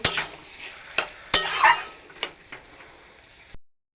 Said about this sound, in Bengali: আলুগুলো দিয়ে দেবো বন্ধুরা এভাবে আলুটা আমি লবণ হলুদ দিয়ে ভেজেছিলাম হয়তো তোমরা দেখেছো তো ভালোভাবে মিশিয়ে নেব